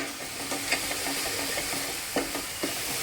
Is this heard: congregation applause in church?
no